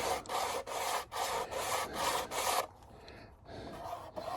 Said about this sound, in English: We're going to take a sanding block and we're going to work on